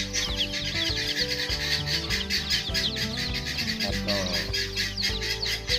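A crowd of newborn chicks, under a week old, chirps rapidly and continuously in a nursery pen, with dense overlapping high peeps throughout.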